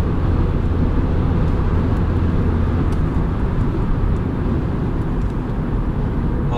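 An Opel Astra 1.4 turbo running on petrol accelerates uphill, its engine a steady, loud, low drone heard from inside the cabin, with constant road noise and no talk.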